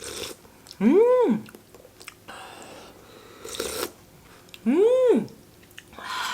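A moist dumpling being eaten up close, with soft wet chewing and crunchy bites between two drawn-out, rising-and-falling hummed vocal sounds of enjoyment.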